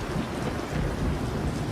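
Heavy monsoon downpour in the Western Ghats, a dense, loud roar of rain pounding surfaces, mixed with low rolling thunder rumbling underneath throughout.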